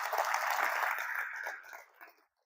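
Applause from an audience at a training session: a dense wash of clapping holds steady for about two seconds, then thins and fades out.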